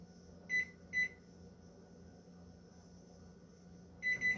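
Short electronic beeps from a microwave keypad: two quick beeps, a pause with a low hum, then two more beeps close together.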